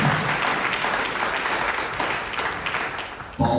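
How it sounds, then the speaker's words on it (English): Loud, steady applause from a seated audience at a public talk on the hidden cost of data centers, sustained clapping filling the room for several seconds before a sharp clap or bump near the end. "Give him a big round of applause."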